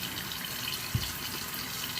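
Bathroom tap running into a sink while a face is washed, a quiet, steady hiss of flowing water with one brief splash in the middle.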